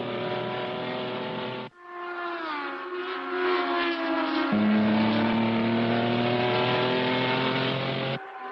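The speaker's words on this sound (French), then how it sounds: "Les voitures viennent d'approcher le record du tour établi lors des essais par Lee Leonard" Race cars lap a circuit during a race, their engines droning loudly with rising and falling pitch as they accelerate and pass, with a sharp cut and a shift in tone midway. No speech is heard.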